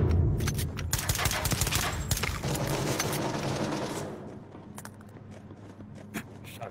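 Rapid gunfire in the VR shooter Onward: a dense barrage of loud, overlapping shotgun and automatic shots for about four seconds, then sparser scattered shots and footsteps with quieter ambience.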